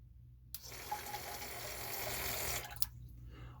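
A steady stream of water gushes from a Dalmo bidet toilet attachment, starting abruptly with a mechanical click, holding as an even hiss for about two seconds, then cutting off with another click.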